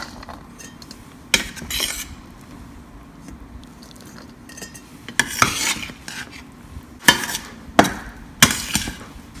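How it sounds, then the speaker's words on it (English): A cooked moong snack is scraped and spooned from a pan into a bowl, with metal utensil scrapes and clinks against cookware coming in bursts between quieter stretches, close up and without talking. "I'm going to transfer it to bowl."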